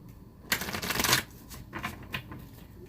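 A deck of tarot cards riffled in one quick, loud burst of fluttering close by, followed by softer taps and shuffling as the cards settle, with no voices.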